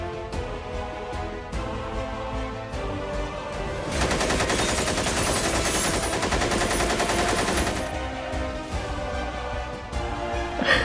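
A burst of loud machine-gun fire runs for several seconds in a stop-motion war film, sitting over an ongoing music and effects bed, and fades back down afterward.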